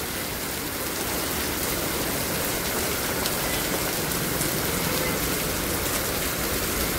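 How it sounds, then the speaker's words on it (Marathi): Heavy rain pours down in a steady, dense roar with no letup, close and fairly loud, with no voices over it. "जोरात पाऊस चालू आहे"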